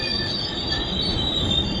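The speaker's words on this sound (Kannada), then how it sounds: "ನಮ್ಮ ಟ್ರೈನ್ ಬಂದೈತ್ರಿ ಈಗ ಮಡ್ಗಾಂವ್ ಜಂಕ್ಷನ್ಗೆ" Train wheels squeal steadily as a passenger train pulls into Madgaon Junction on the Mumbai to Mangaluru coastal line, a loud continuous screech with rumbling undertone and no talk.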